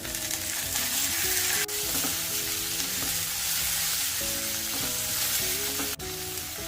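Soaked masoor lentils fry with onion in a pan, a loud steady sizzle with occasional stirring scrapes, all over a tuneful background melody.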